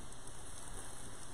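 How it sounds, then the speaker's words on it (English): Heavy rain pours down steadily outside, a dense, even hiss of drops drumming on surfaces with no break and no voices. "Holy mackerel, that rain is coming down."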